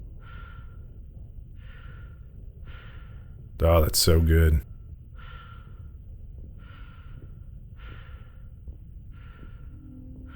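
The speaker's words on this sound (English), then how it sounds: "all you can hear is your breathing" Slow, steady breathing of a character in Mass Effect 2, regular breaths repeating every second or so against near silence, interrupted briefly by a short spoken remark.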